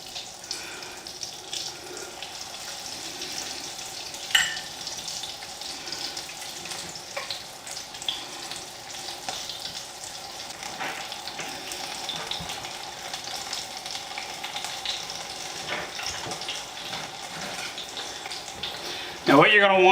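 Onion rings deep fry in hot fat at home, a continuous close bubbling hiss that runs steadily throughout with small clatters and a louder knock at the end.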